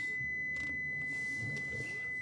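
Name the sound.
electric car beeping an error warning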